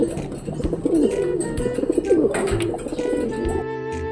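Pigeons coo repeatedly in soft, rolling bursts, close by and continuous, with chirps and rustling from a flock around them and no talking.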